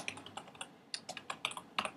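Quick bursts of keyboard typing, clustered keystroke clicks with short pauses between groups, close and clear with no voices.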